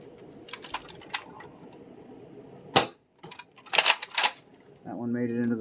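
A Nerf Mega Accustrike blaster fires darts, giving a few sharp, close clicks and thumps that stand out against a quiet background.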